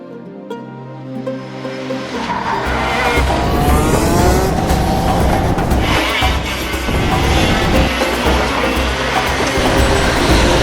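Go-karts racing on a Bahrain circuit build from a rising engine whine into a loud, continuous buzzing roar with shifting pitch, staying dense and close throughout.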